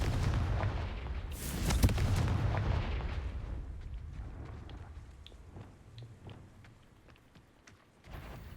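Confringo spell explosion in the video game Hogwarts Legacy: a burst of booming, crackling blasts early on, followed by a fading rumble with scattered small pops and sharp clicks.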